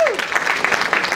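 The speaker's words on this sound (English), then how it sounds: "please give him a round of applause." Convention audience bursts into applause, a dense patter of many hands clapping steadily at moderate distance for a brief moment, with no pauses.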